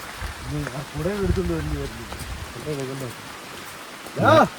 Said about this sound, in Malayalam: നല്ല അടിപൊളി മഴയാണ്